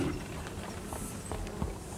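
Hooves clip-clop in an irregular quick patter from six strong horses pulling a coach up a sandy, sunny hill in a staged La Fontaine fable, fairly faint and steady with no talk over it.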